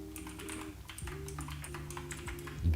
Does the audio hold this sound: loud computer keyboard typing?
yes